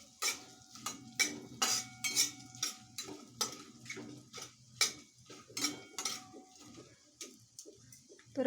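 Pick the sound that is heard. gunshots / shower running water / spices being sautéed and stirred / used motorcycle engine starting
spices being sautéed and stirred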